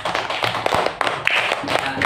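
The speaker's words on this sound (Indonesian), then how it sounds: "Tepuk tangan untuk kelompok 1" Classroom applause for the first student group, a short burst of scattered hand claps and taps from a few nearby people, uneven in rhythm, with faint voices mixed in.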